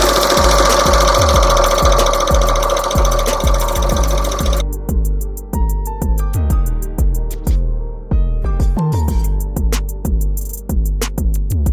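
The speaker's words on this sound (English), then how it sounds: "the next step, which is going to be the satin stitch around each letter" Home embroidery-sewing machine (Brother SE-series style, Marquee 2001 setup) satin stitching around appliqué letters of glitter heat-transfer vinyl or fabric, a loud, steady rapid needle clatter with rhythmic mechanical thumps, running alone without talk.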